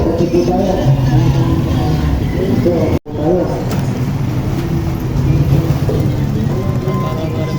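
Steady roar of traffic at a street intersection, passing vehicles blending into a continuous close wash of engine and road noise, with one brief dropout midway and faint voices underneath.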